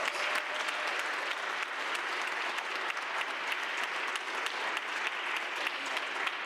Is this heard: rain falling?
no